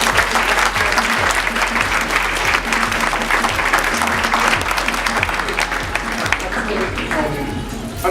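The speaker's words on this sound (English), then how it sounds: "Hey, let's give everybody who's a part of this film another round of applause." A big premiere-night audience gives the film's cast a loud, sustained round of applause, dense clapping and crowd noise running steadily throughout with a thumping bass beat underneath.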